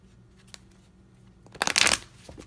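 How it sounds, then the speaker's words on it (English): Tarot cards being shuffled during a love reading, a dense riffling burst that swells up loud for about half a second near the end, preceded by quiet handling and small taps. "so let's pull some love cards."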